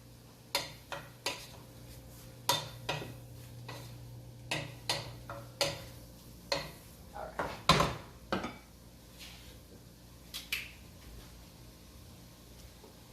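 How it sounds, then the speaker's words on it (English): A spoon stirring pasta for creamy marinara knocks against the metal pot in irregular, fairly close clinks and taps spread across the stretch, over a faint steady kitchen hum. "Constant stirring of the pasta."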